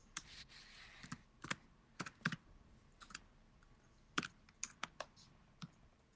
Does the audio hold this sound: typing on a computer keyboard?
yes